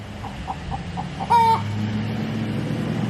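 A chicken clucks softly in short repeated notes, then lets out one louder drawn-out squawk, over a steady low hum.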